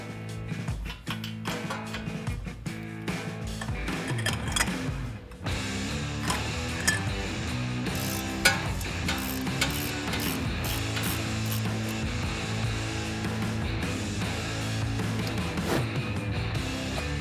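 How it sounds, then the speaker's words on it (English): A ratchet with a 19mm socket loosens a tie rod castle nut on a 2016-2020 Toyota Tacoma, producing continuous rapid clicking of the pawl for a long stretch, close and steady with no voices. "You're going to want to use a 19mm socket here to run on the castle nut"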